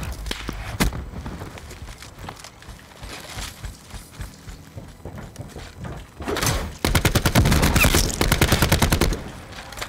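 Rapid video-game gunfire in the 2D archery game Towerfall, with scattered shots and thuds early on, then a dense, loud volley of repeated rapid shots near the end.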